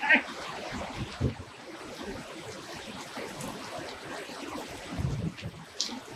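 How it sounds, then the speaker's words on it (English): Heavy rain pours down on a boat in Florida, a dense steady hiss of drops drumming around a sheltered spot, with a few louder gusts and spatters near the end. "it's absolutely pouring out"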